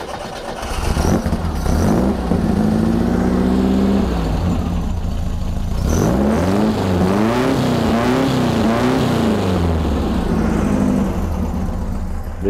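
A Volkswagen Beetle 1500 engine runs loud and close through an exhaust with a JK muffler, burbling at idle between two throaty rev-ups that rise and fall.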